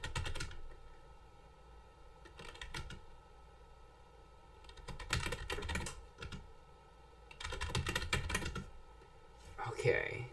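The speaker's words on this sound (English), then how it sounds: "Let's type in my name." Bursts of typing on a computer keyboard while entering a player name for the Aardwolf MUD, an online text game played over Telnet; clusters of key clicks come in several spaced runs, fairly close and moderately loud.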